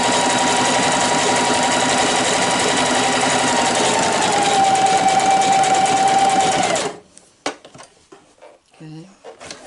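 A Singer 4423 sewing machine runs continuously, a loud steady whirring stitch with a rising motor whine, then stops abruptly, leaving a few faint handling clicks.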